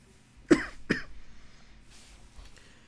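A person mid-gulp of water lets out two sharp, close coughs in quick succession, followed by faint breathy throat noise in an otherwise quiet room.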